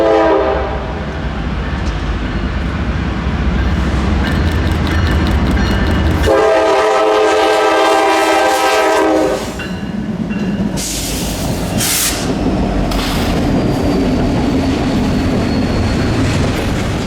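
A Norfolk Southern freight train, NS 201 with the Wabash heritage unit trailing third, rumbles loudly past near Radford, Virginia, its horn sounding in long sustained blasts over steady wheel and rail noise, with squeals and clanks as cars roll by.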